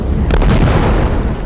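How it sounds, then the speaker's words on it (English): Explosion effect in an audio drama, a loud, close boom with a short crackling burst that rolls into a heavy rumbling tail. "The explosion ripped through the card soldiers, killing them all."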